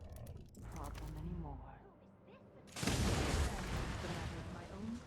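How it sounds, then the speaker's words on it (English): A sudden loud, broadband explosion in Dishonored 2 bursts in midway and rumbles on, following a stretch of game audio and a talking voice. "Why did I just randomly hear an explosion in the background?"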